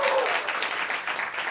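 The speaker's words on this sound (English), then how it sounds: "clap it up, clap it up," Audience clapping for guests at the close of a live show, a brisk dense burst of applause from a crowd, steady and fairly loud throughout the short stretch.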